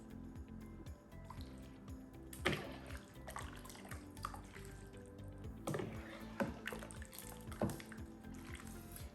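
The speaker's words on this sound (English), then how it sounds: "Ladle this gorgeous broth on top of" Hot laksa broth is ladled over noodles in a bowl, with soft close splashes and drips recurring in a loose rhythm over a quiet background hum, no talking.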